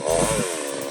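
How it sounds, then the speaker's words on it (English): Tractor engine ploughing a field on a vegetable farm in Zambia, a steady, loud mechanical drone with a deeper throb at the start, continuous for the whole second and nearby. "Tractor plowing up bwino."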